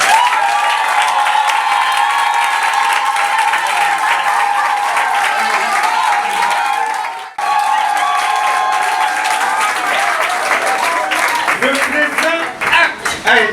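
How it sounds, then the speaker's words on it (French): A crowd at a civil wedding ceremony in Douala bursts into sustained applause and cheering. Dense clapping fills the room for several seconds, dips briefly, then resumes with voices mixed in. "Mais veuillez l'acclamer très très."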